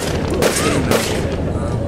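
Rapid automatic gunfire from the online shooter game APB Reloaded crackles continuously with sharper bursts standing out, dense and close, with a voice briefly audible underneath.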